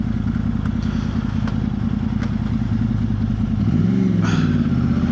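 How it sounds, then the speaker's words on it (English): A Yamaha R1 motorcycle engine-brakes on the road, a loud steady engine drone under wind noise that shifts pitch near the end as the revs change. "using your gears to increase the amount of engine braking you have is a no-brainer"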